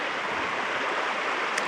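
A river at a Vancouver Island camping spot rushes past in a steady, full hiss of flowing water, close and continuous with no talking.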